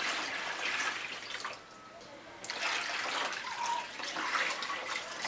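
Hot water runs and splashes into a baby bath, a close, steady stream that stops briefly partway through and then resumes.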